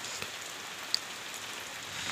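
Heavy rain falls in a village during a low-pressure downpour, a dense steady hiss of drops striking surfaces with occasional sharper nearby splats, no voices.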